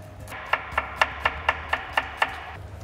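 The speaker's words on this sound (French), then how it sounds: "Donc on va émincer très finement le poivron." A knife slices bell pepper finely on a cutting board: eight crisp, evenly spaced chops at a steady rhythm, close and clear with little else around them.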